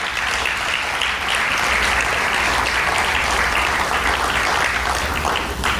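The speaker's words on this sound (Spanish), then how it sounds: "Dale un aplauso al Señor por la iglesia." A church congregation at a Spanish-language service breaks into sustained applause, a loud, steady roar of many hands clapping at once that never lets up.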